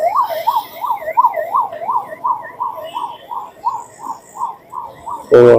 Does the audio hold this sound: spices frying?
no